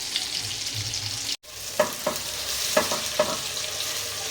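Pieces of fish lightly fried in oil in a pan give a steady sizzle, broken by a brief silence and then a few sharp clinks and spatters, with no talking.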